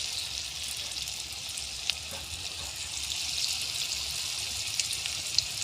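Small pieces of cabbage manchurian fry in hot oil, a steady bright hiss and crackle that runs throughout at moderate loudness, with an occasional pop and no speech.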